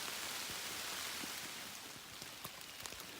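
Steady rain falls on the Appalachian Trail, a soft, continuous hiss with scattered close raindrop taps.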